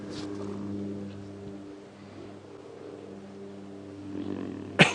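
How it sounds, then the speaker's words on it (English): Young lion cubs growl at each other on a morning safari drive in the wild, a low rumbling snarl running steadily through the clip up close, with a sharp louder burst right at the end. "The sound of little lion cubs growling at each other."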